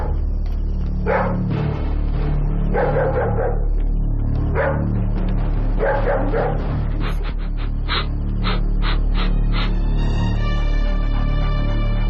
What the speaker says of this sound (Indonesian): Terus kenapa tuh anjing menggonggong terus?